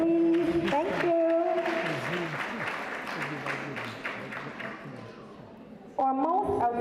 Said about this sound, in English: Give it a round of applause, please.